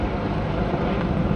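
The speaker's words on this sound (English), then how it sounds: "Oh, it's a helicopter." A helicopter flies over a downtown Toronto street, its broad, steady rumble filling the short moment at a constant loudness.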